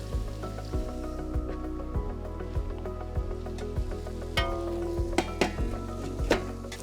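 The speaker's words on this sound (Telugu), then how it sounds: "ఉల్లిపాయలు వేగుతున్నప్పుడే దీంట్లోనే మనం అన్ని గరం మసాలాలు యాడ్ చేద్దాం" Chopped onions frying in a pan with garam masala spices and bay leaf, a steady hiss and crackle with regular scraping taps of a spoon against the pan.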